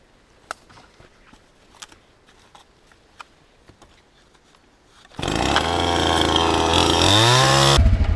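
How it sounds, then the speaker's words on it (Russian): A chainsaw starts after five seconds of quiet outdoor ticks and taps, then roars loud and close as it cuts wood for firewood at a riverside camp. Its pitch shifts as it bites into the log. "Вот это сейчас пильнем еще."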